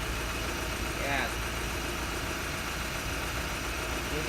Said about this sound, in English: You can hear the engine change the RPM.